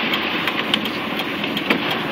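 A 1993 Mitsubishi 3000GT VR-4 with a 15G turbo build runs with a loud, steady engine drone and turbo whine. Faint rhythmic ticks sound throughout.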